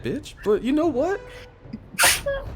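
A sharp, loud sneeze bursts out near the end, coming right after a stretch of casual talk with rising and falling speech.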